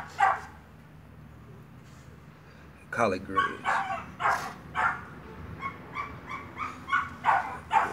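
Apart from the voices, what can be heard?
dogs barking before feeding, pitbull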